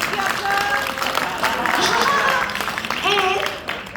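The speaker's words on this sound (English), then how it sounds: "Please give my dad a big round of applause." An audience claps steadily in a dense patter while voices talk over the applause.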